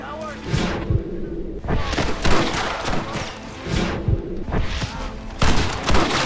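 Rapid bursts of Gatling gun fire in the video game Red Dead Redemption, loud and heavy, coming in several long volleys with short gaps and voices mixed into the din.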